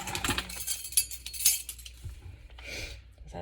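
A metal teaspoon clinks and chinks against other utensils while salt is measured out for homemade sub roll dough, a handful of bright, close, quick taps followed by softer rustling.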